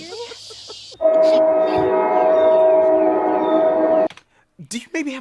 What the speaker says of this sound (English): Do you maybe have a tape without the train?